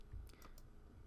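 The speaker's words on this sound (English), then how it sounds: "I'm hitting down arrow on my keyboard, and then hit space there." Computer keyboard keys are pressed as a few quick, faint clicks in close succession, set against a quiet room hum.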